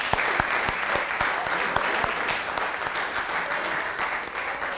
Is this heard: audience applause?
yes